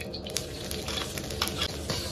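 Dried shrimp fry in hot lard in a wok, a close, steady crackling sizzle with small popping bursts throughout the brief moment.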